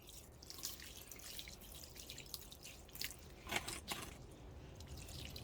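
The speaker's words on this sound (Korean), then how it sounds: "물 쫙쫙 잘 빠지네요" Freshly planted flower in a pot of soil with perlite watered: gentle pouring and trickling water with soft drips and splashes as it drains, quiet and close, continuing throughout.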